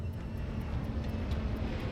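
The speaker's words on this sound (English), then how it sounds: "The sound at first was just a normal airplane flying above." A normal passenger airplane flies overhead near houses in Queens, New York, giving a steady low engine rumble at moderate distance with no voices.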